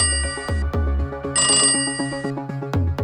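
A telephone ringtone trilling in a steady repeating electronic pattern while a call to a bank waits to be answered, loud and close with no voices.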